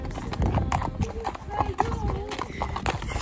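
Horses' hooves clip-clop in a steady uneven rhythm on the beach, close and clear, while people talk over them.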